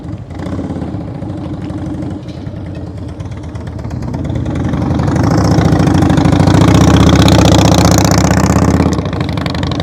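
A motorcycle runs at low throttle during slow-speed riding practice, a steady close rumbling engine putter that swells louder and rougher midway, then eases slightly near the end.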